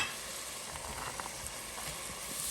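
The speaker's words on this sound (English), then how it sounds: "Next, I'm frying my 2 carrots and 1 onion." Chopped onion and carrots sizzle steadily in a hot pan for a beef stew, a constant close-up frying hiss with small pops and crackles.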